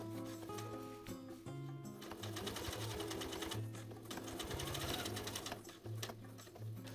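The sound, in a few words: sewing machine topstitching jeans edge with contrast thread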